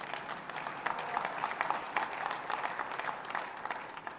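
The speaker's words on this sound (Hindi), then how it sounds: "इस पे कितनी जोर की ताली बजी है।" Steady audience applause at a political rally in India, sustained dense clapping from a large crowd, moderately loud and continuous throughout without speech over it.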